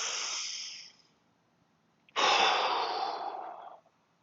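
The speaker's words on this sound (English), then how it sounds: "So big breaths here." Deep breathing during a yoga hip airplane exercise: one long, airy breath fades out, a second of quiet follows, then a stronger, longer breath rushes in close to the mic.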